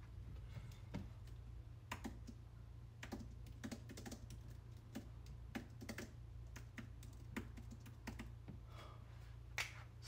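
Light, scattered keyboard taps on an iPad Pro keyboard at a steady pace over a low constant hum, no voices, with a slightly sharper click at the very end.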